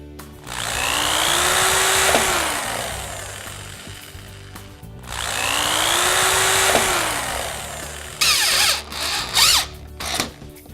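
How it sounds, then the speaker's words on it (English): A power drill bores pilot holes into a wooden board in two sustained whirring bursts, each a few seconds long with the motor winding up and down, followed by clattering handling noises. "I'm going to pre-drill some holes"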